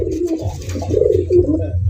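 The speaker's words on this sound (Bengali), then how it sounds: "ঘুরা ঘুরা ডাকে দেয়া যায়" A big white-breasted, crested pigeon with a white tail coos close and loud, giving a series of deep rolling throaty coos that run almost continuously without any talking.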